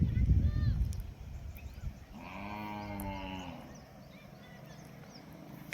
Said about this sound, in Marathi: तिकडे गाय ओरडती मोठ्या मोठ्याने.